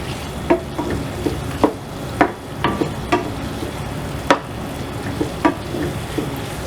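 Chicken lollipops frying in a pan over medium flame, with a steady sizzle under repeated sharp scraping and stirring clicks, close and fairly loud, with no talking.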